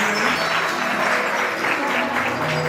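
A crowd at a Jain temple gathering claps together in steady, dense applause, fairly close and sustained through the whole moment, with no talk over it.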